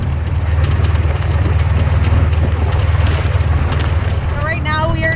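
A car engine hums steadily at low pitch while driving along the west side of the island of Cozumel, a constant close drone with faint chirps near the end, as people talk over it.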